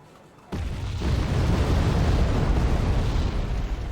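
A bomb explosion in the Wargame: Red Dragon strategy game bursts in suddenly after near silence, then a loud, sustained low roar and rumble continues to the end with no talk.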